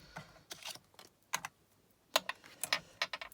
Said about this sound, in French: On prend notre lame, on la met dans le guide et on coupe.